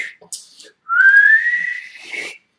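A person whistles a single rising tone that slides upward and holds, clear and close, with a brief spoken fragment just before it.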